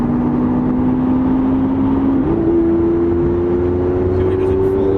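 Lamborghini Aventador SV engine held near 2,000 RPM with a steady, loud drone, then a brief step in pitch as the throttle is released, the deep rumble continuing close and unbroken.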